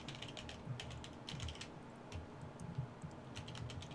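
Fairly quiet keyboard typing on a computer keyboard, with irregular clusters of soft key clicks tapping at a steady pace across a faint background hiss.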